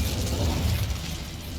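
Incendio fire spell cast in Hogwarts Legacy, a loud, close burst of crackling, rumbling flame that flares within the first second and then tails off steadily, with no voices.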